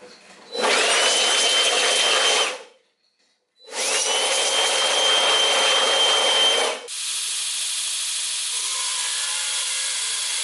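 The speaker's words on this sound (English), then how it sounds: "Now we grind them." A power grinder shapes Damascus steel knife blanks in two loud, close bursts of harsh abrasive grinding separated by a short pause, followed by a quieter steady whir.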